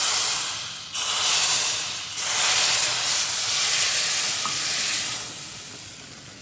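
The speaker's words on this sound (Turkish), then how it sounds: "Naneyi kaynayan çorbamızla buluşturuyoruz." Mint sizzled in hot fat is poured into boiling yayla soup, giving a loud, broad hiss and crackle that surges in a few waves and then settles, with no talking.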